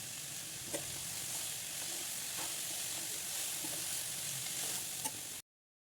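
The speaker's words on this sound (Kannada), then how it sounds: "ಈಗ ರುಚಿಗೆ ತಕ್ಕಷ್ಟು ಉಪ್ಪು ಹಾಕೊಂಡು ಮಿಕ್ಸ್ ಮಾಡ್ಕೋತಾ ಇದ್ದೀನಿ." Vegetable fried rice sizzles steadily in a hot pan while being stirred, with a continuous close frying hiss and a few sharp scrapes of a spoon against the pan; no voices.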